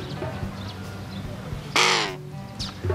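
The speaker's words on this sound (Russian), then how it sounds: "смелая ворона, да?" A crow gives one loud, harsh caw up close after a stretch of quieter background sounds.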